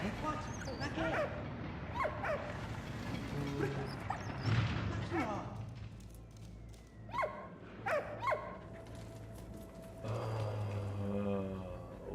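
Dog barking and whimpering in Valiant Hearts: The Great War, several short yips and barks spread through the scene amid game sounds, with someone talking over parts of it.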